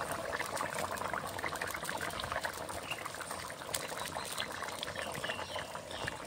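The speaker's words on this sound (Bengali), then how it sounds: "তরকারিটা ফুটে উঠেছে, আমার আলুটা সিদ্ধ হয়ে গেছে।" Bengali rohu fish curry with potatoes bubbling steadily in a pan, a continuous close, dense boiling hiss and crackle with no talk.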